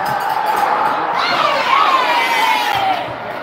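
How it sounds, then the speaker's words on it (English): Arena crowd at a youth under-13 hockey playoff game, Trappers versus Sting, cheering and shouting in a sustained, loud, reverberant roar that swells in the middle and eases at the end. "And the crowd goes wild."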